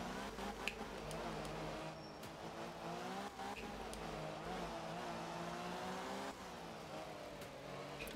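An old Mini rally car in Group 2 trim, carrying a bike on its roof, races a Finland stage in Art of Rally, its engine droning steadily with shifting revs, moderately loud and close, with occasional sharp ticks and clicks.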